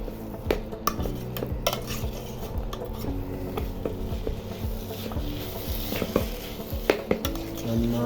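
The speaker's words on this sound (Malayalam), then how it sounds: "ഇളക്കി കൊടുക്കുക. മസാലകളെല്ലാം ഇതിന് ഇളക്കയിൽ പിടിക്കണം." Potato masala for samosa filling is stirred in a pan, with repeated close scrapes and clanks of a metal spoon against the pan over a low sizzle, continuous and fairly loud.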